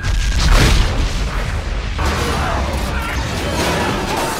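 A deep, rumbling depth charge explosion heard from inside a WWII U-boat, with a heavy boom and a long roaring, churning aftermath, loud and close throughout.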